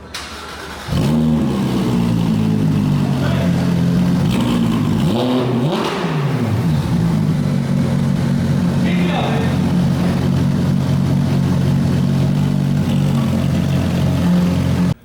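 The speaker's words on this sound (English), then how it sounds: "So, as you guys probably heard, brand new exhaust system on the GT3RS" A Porsche 991.1 GT3 RS engine with a new iPE exhaust revs up loudly around the start, then settles into a steady, deep exhaust drone that continues throughout, with a voice faintly underneath.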